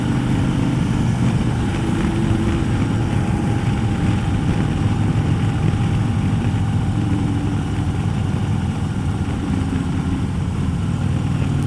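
A 2016 Harley-Davidson Road Glide motorcycle idles at a standstill, its engine giving a steady, low, rumbling drone that stays close and even throughout with no speech.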